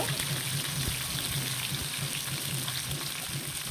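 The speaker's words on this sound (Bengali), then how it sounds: "মাছগুলো খুব সুন্দরভাবে কিন্তু লাল লাল করে ভেজে নিব" Koi fish frying in hot oil, giving a steady, dense sizzle with a constant crackling hiss throughout and no voices.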